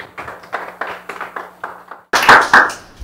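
Event audience applauds a startup team being introduced at a university pitch competition, first with scattered individual claps and then a brief, louder burst of clapping near the end.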